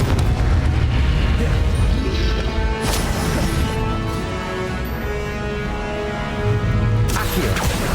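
Confringo blast spells explode in Hogwarts Legacy on Nintendo Switch, loud dense booms and crashes layered over game music, with a sharp burst near the middle and another toward the end.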